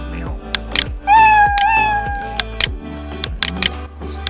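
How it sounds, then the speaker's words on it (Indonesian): The Scratch cat meow sound effect plays inside a programming project, a clear, loud, drawn-out meow surrounded by short sharp clicks. "ini contohnya ada audio si kucing meow"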